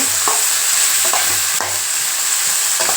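Chilli powder and salt are stirred into tomato and eggplant frying for a green lima bean and anchovy thokku. A loud, close, continuous sizzle is broken by several spatula scrapes and taps, with no talking.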